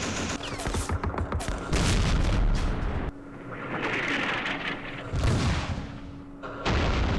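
Dense gunfire and artillery blasts from a direct-fire attack on a position in the wargame Campaign Series Vietnam, loud and sustained with overlapping shots and booms that come in several bursts across the clip.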